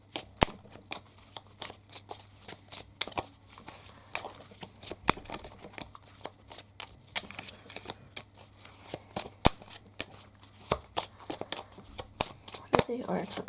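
A deck of oracle cards is shuffled by hand in quick, irregular riffles and slaps, close and crisp, continuing throughout with a faint low hum underneath.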